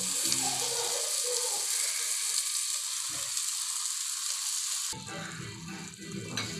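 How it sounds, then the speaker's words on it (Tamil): Fenugreek curry paste for a Tamil ventahayam kulambu fries in a pan with a continuous close sizzle, broken by scraping stirs and a louder clattering burst near the end; no one speaks. "இந்த கறி பேஸ்ட் வந்து நல்லா வதங்கி வருது"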